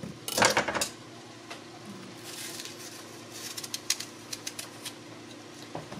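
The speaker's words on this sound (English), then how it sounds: "Cutting an apple in 4 pieces." A knife cuts an apple into quarters in a home kitchen, with a few sharp clinks and taps of blade on a cutting board followed by light, sparse tapping; no one speaks.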